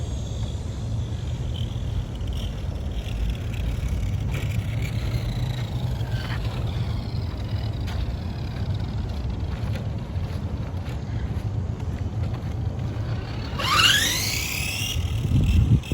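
A 1991 Tamiya Ferrari F40 radio-controlled car driving outdoors, a steady electric motor whine under constant wind buffeting, rising to a sharp high-pitched rev near the end.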